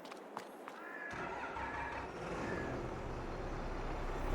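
The engine of a big tractor in Farming Simulator 22 starts after a short quiet moment with a few clicks. It settles into a steady, deep diesel rumble that grows slightly louder, heard alone.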